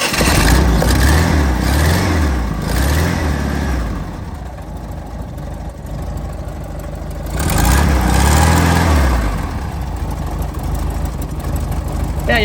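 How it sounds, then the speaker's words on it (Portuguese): A car engine with spark plug trouble runs unevenly, loud and close, with surging pulsing revs at the start and again midway between rougher, lower idle stretches. "O motor tá meio irregular ainda"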